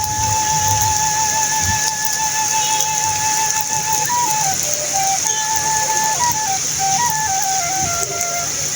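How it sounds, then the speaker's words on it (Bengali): Steady rush of rain, loud and close and unbroken, with a whistle-like pitched tone wavering above it. "খুবই ভয়ঙ্কর ভাবে নামছে কিন্তু বৃষ্টি"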